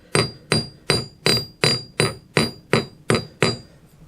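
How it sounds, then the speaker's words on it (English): Ten evenly spaced hammer blows ring out on a metal bracelet being forged on a bench, each a sharp close metallic strike with a brief bright ring, steady rhythm about two and a half per second. "the way I make it pretty is overlapping my hammer strokes"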